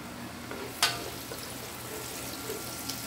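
Onions frying in a pan over medium-high heat, a soft continuous sizzle with a single sharp clink of a utensil early on, no talking.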